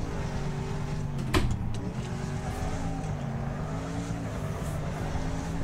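Speedbird race car engine in Wreckfest, a steady droning hum with shifting pitch, continuous and moderately loud, with one brief sharp click near the start.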